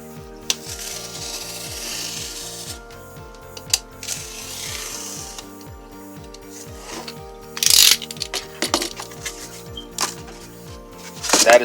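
Hand saw cutting through a piece of wood for a DIY paint rack, steady rhythmic back-and-forth strokes, close and fairly loud, with a few sharp scrapes near the end and no talking.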